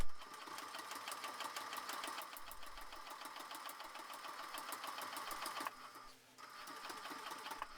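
A sewing machine runs steadily, stitching tote bag fabric with a 1 cm seam allowance in a rapid, even mechanical patter. It stops briefly near the end and then starts again.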